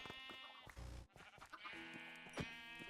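Sheep bleating in the Minecraft modpack Stoneblock 4, several short, nasal bleats in quick succession, close and clear over faint background game sounds.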